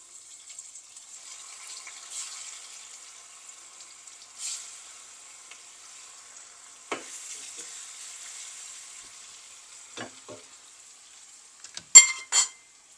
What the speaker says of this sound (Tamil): இப்போ இந்த மீனெல்லாம் நான் ஃப்ரை பண்ணி எடுத்துட்டேன்.